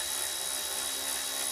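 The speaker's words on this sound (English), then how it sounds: "just get yourself some power tools." A steady, high-pitched whine of a power tool running continuously, close by and unbroken, during work on old Rolls-Royce brake master cylinders.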